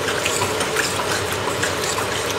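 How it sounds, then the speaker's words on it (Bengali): Water is poured into a pan of fried taro and potatoes, giving a steady, close, dense rush and hiss that runs unbroken for the whole moment with no voices over it. "এইবারে জল দিয়ে দিচ্ছি আর চিংড়ি মাছগুলোকেও দিয়ে দেব"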